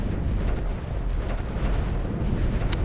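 Continuous rumbling battlefield din of gunfire and explosions from the Ground Control 2 strategy game, dense low booms with scattered sharper bursts throughout and a crisp crack near the end.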